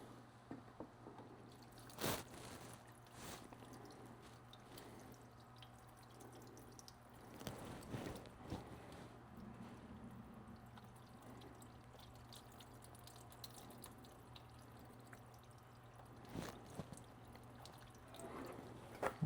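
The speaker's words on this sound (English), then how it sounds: "put the water on a B pillar here and see if our module will stay dry inside" Water poured onto the B pillar of a Mercedes Sprinter van during a water test, soft intermittent splashing and dripping with a few louder pours, faint against a quiet background hum.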